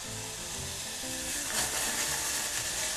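Violet wild mushroom pieces braise in a pan, giving a steady soft sizzle and hiss with faint stirring, continuous and close, no voices.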